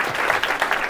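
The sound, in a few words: audience applause at comedy show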